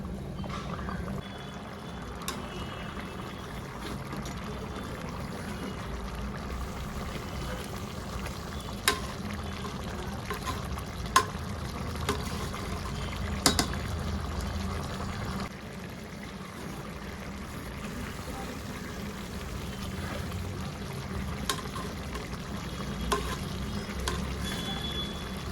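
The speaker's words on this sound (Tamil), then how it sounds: "அரிசியும் தண்ணியோட அளவும் லெவலாக வர வரைக்கும் நம்ம கொதிக்க விட்டுப்போம்." Rice and water boil together in a pot for veg biryani, a steady low bubbling and simmering hiss with occasional small clicks and pops, moderately quiet and continuous without talk.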